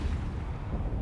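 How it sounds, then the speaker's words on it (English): Missile launchers firing in the space game EVE Online: a dense low rumbling roar with a gritty, booming texture, sustained and loud for about a second. "That's pretty good look of the launchers and the missiles going towards the target."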